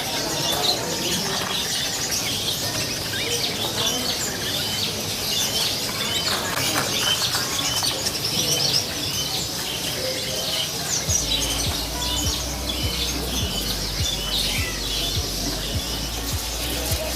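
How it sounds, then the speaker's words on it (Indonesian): Dozens of kinds of songbirds chirp and call together at a stall in the Depok bird market in Solo, a dense, steady chorus of tweets and trills with some wing flutters, close and continuous throughout. "Di kios ini ada beberapa puluhan jenis burung kicau, teman-teman."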